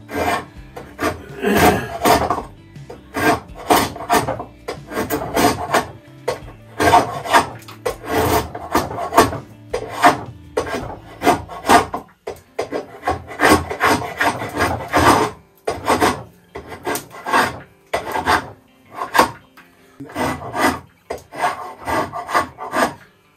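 Repeated rasping strokes of a drawknife shaving wood on a shaving horse, steady rhythmic pulls with brief pauses between, close and fairly loud with no talking.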